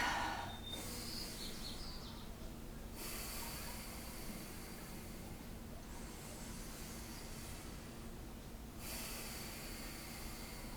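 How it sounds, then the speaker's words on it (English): Slow, deep breaths during a pranayama breathing exercise, each a long hissing inhale or exhale lasting a few seconds, close and steady over a constant low background hum, with no talking. "take a couple of deep part breaths"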